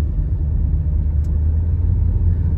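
A Kia Seltos or Hyundai Verna with an automatic gearbox accelerates gently on the road, its engine giving a steady, close, low rumble throughout with no voices.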